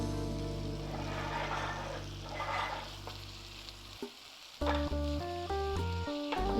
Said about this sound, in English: the trick to caramelized onions is taking your time and working the onions and letting them take time to sweat